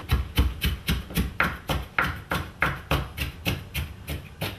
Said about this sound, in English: I get it down to smaller pieces, and then I'll do the final chopping